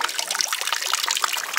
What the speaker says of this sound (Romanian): Și aceasta este o instalație de apă.